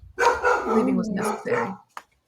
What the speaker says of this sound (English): Sorry, more dogs. Time for my dogs to act up.